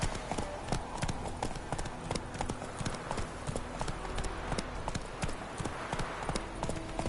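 Hooves of Roach, the horse in the game The Witcher 3, clip-clopping at a steady trot, sharp regular hoofbeats close up over a constant background of movement and faint ambience.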